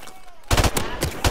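A burst-fire gun in a shooter video game lets off a rapid cluster of sharp, loud shots in quick bursts after a brief quiet start.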